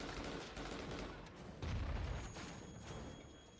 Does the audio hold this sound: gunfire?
yes